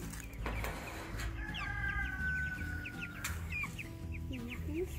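Chickens cluck and chirp close by while being moved to a new spot on a homestead, with steady rustling and handling noise beneath the birds' calls.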